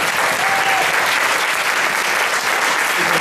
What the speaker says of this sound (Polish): Państwo daliście oklaski za darmo, za nic właściwie